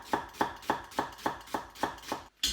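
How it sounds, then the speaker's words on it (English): A knife thinly slices onions on a cutting board, producing eight crisp, evenly spaced chops in a quick steady rhythm, close and clear, with no speech. "I'm just going to slice the onions nice and thin"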